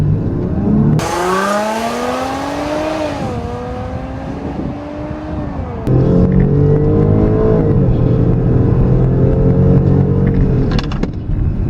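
A 2014 Dodge Durango R/T and a Range Rover Sport SUV accelerate hard in a drag race, a loud, sustained engine roar rising in pitch through several gear shifts, with wind rush and no voices.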